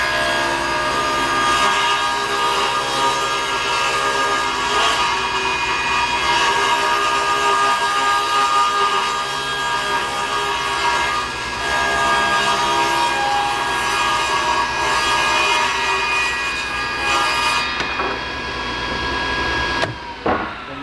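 A table saw rips through a wooden board with a steady, loud whine for most of the stretch, then the blade spins down near the end.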